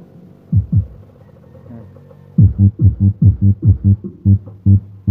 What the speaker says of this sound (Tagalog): Yan yung tunog ng ating sub na amplifier mga boss sa channel 1 ng ating equalizer.